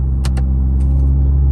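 A 2018-2022 Honda Accord with muffler and resonator delete pulling in fourth gear, a loud, close, steady low engine drone with a constant rumble and a few faint clicks and rattles on top.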